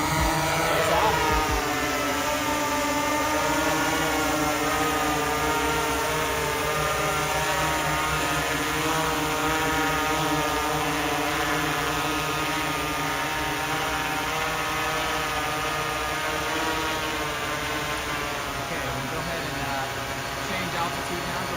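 A Panadrone drone taking off and flying, a loud steady whine of spinning rotors held close for the whole stretch, with a faint knock at the start.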